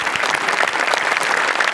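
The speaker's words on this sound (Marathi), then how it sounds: "जोरदार टाळ्या झाल्याच पाहिजेत." Audience applause fills a comedy show stage, steady dense clapping from a crowd throughout, loud and close with no talk over it.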